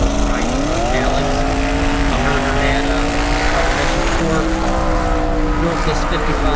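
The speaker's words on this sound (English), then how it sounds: "Built this 55 Chevy basically for Rocky Mountain Race weekend, the Dragweek, and got to see her run" A 1955 Chevy drag car runs at Hot Rod Dragweek with a loud, close engine drone. Its pitch climbs steadily, then steps up again, over constant broad noise.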